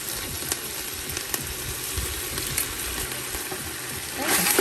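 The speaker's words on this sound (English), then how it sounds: "Okay, continue to stir fry this" Pork ribs are stir-fried in a big pot for a lemongrass stew, giving a close, steady sizzle broken by scattered scraping stirs and a brief louder burst at the end.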